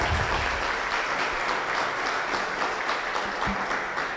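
An audience at a public budget hearing in Rio do Salto, Cascavel, applauds, a dense, even wash of clapping hands sustained at steady loudness throughout, with a faint voice briefly underneath.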